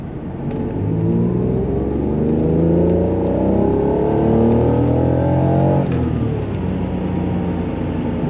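A high-mileage Acura NSX engine accelerates from 2000 RPM, the loud, continuous engine note climbing steadily in pitch for several seconds before a shift drops the tone and it begins rising again.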